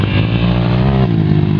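Edivaldo's trail bike roars past at close range, a loud, rough motorcycle engine note holding steady and then dipping slightly in pitch as it goes by.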